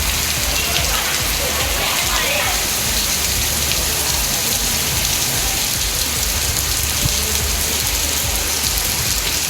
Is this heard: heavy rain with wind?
yes